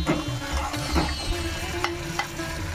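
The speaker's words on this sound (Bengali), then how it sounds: "যখন সুন্দর গন্ধ বেরোবে তখন একটু পটলটা দিয়ে দেবো। এটা একটুখানি নাড়তে হবে" Pointed gourd stirred in hot spiced mustard oil for doi potol, a steady sizzle with repeated scraping and clatter of a spatula against the pan, close and continuous.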